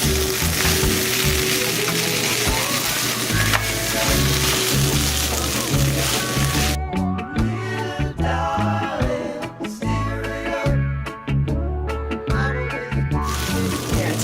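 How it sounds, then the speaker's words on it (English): Beans get stirred into freshly scrambled eggs in a pan, giving a loud, busy sizzle with stirring and scraping throughout, partly mixed with other sounds and with no talking. "let's stir in the beans"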